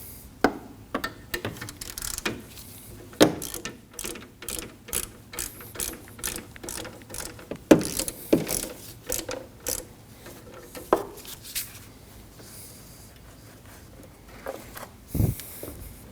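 Ratchet clicking as a 12 mm bolt is loosened from an AC condenser fitting on a 2003-2006 Subaru Baja 2.5L H4, with bursts of quick close pawl ticks separated by short pauses.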